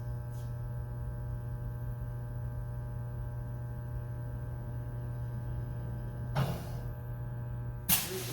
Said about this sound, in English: Drum will rotate back to home position and stop